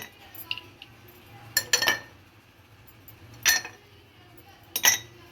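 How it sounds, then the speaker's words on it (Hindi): Ice cubes clink into drinking glasses for falsa juice, in three separate bright bursts of clattering, fairly close but soft, with quiet gaps between. "गिलास में पहले डालेंगे क्यूब्स"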